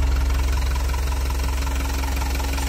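Hino Dutro 136 HDX Euro4 diesel truck engine idling with a steady, smooth low hum and even rhythmic pulsing, close and constant throughout, with no voices.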